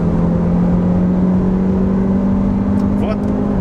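A stock front-wheel-drive Volkswagen Tiguan 2.0T pulls away hard from a standstill: a steady, droning engine note with a strained hum that climbs slightly near the end, heard up close over continuous road and cabin noise.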